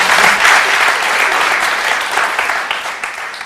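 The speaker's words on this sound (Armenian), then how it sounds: "ձեր ծափարությունները" An audience bursts into applause during a quiz game show, a dense steady clapping that fades slightly toward the end.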